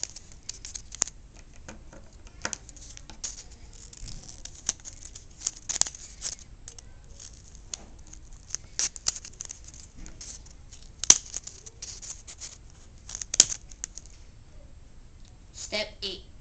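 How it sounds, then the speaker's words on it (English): Scissors snip the corners off a sheet of paper folded for a snowflake, giving quiet, scattered crisp cuts and paper rustles at an irregular pace. "Cut all the corners off."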